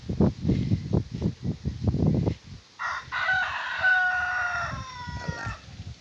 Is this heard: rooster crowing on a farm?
yes